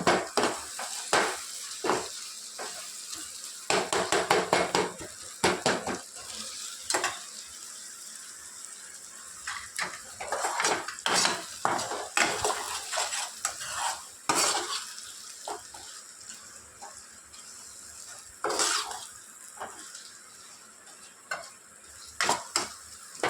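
Onions are mashed and stirred in a pan while cooking mutton, with irregular scraping strokes, metallic clinks of a utensil against the pan and a soft sizzle beneath, close and busy without speech.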